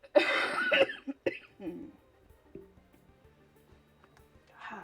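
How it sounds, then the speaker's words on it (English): A person coughs loudly and close up near the start, with a second brief cough-like burst after, then quieter faint rustling; a few soft noises return at the end. "That might be where my coughing's coming from."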